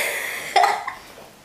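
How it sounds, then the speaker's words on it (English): A single short cough bursts out near the microphone, followed by a fainter second catch of breath, with no talking. "quit coughing"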